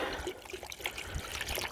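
Dishwashing detergent trickles from a container into a homemade salt-water weed killer mix, a faint, short gurgling pour heard close up.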